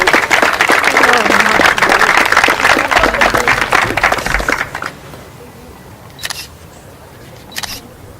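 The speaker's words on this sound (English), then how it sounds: "Well done, round of applause." A room applauds a football player, clapping loud and busy for about five seconds under faint murmuring, then cutting off abruptly, leaving quiet room tone broken by two short sharp clicks.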